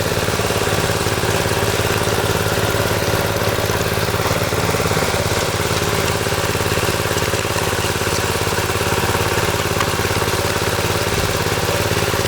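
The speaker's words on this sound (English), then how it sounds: "Notice how flat the trowel machine runs." A concrete power trowel machine runs steadily while finishing a slab, its engine humming loud and unbroken at close range with a constant low vibration and no talk.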